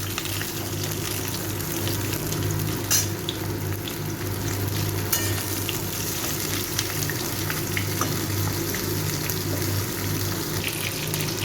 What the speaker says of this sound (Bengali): সব পটলগুলোকে ভেজে নেব। পটলগুলো একটু লাল করে ভেজে নেব।